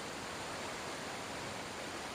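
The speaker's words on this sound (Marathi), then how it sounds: "हा जो धबधबा आहे हा अपरिचित आहे" A little-known forest waterfall pouring over rock into a large stream, heard as a steady, even roar of falling water, faint and continuous with no other sounds.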